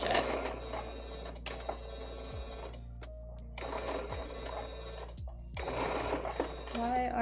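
An electric sewing machine stitches a dress in three bursts of rapid, steady whirring with short pauses between, close and fairly loud. A voice speaks briefly during the gaps.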